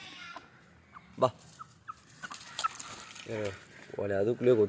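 Country chickens gathered at a feed of bran cluck and squawk nearby, with scattered calls building into a busier flock chorus while someone talks among them.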